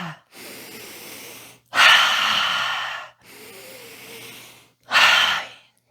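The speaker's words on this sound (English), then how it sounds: "this is where you're breathing in to the count of 4 and then you're exhaling" Fire breath breathing exercise: a sharp forceful exhale, a long deep inhale, a quieter steady breath, then another sharp burst. The breaths alternate close and loud, with short silent gaps between them.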